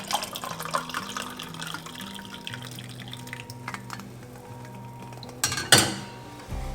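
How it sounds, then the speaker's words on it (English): Hot water poured from a kettle into a cup of AeroPress coffee, a soft trickling stream among clinks of mug and cutlery, ending in a sharp clatter. "you can take the rest of your hot water and fill up your cup with it"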